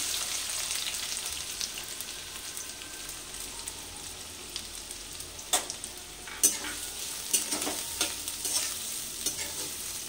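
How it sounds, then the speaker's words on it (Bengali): Onions fry in white oil and ghee in a kadai, a steady hissing sizzle that runs throughout, with sharper spatula scrapes and stirring knocks joining in the second half, close and with no voices. "তেলটা গরম হয়ে গেছে, এবার ওই তেলের মধ্যে আমি পেঁয়াজ দিয়ে দিচ্ছি।"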